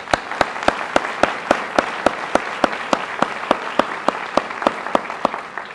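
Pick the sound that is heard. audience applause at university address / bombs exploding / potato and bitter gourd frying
audience applause at university address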